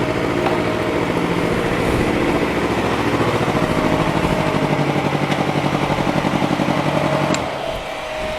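Motorcycle engines rumble steadily and loudly throughout in a busy market street, with a continuous buzzing drone that eases off near the end, like bikes passing close by.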